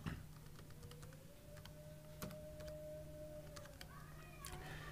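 A mobile number is tapped out on a computer keyboard, with scattered light key clicks over a steady low hum and a faint drawn-out tone.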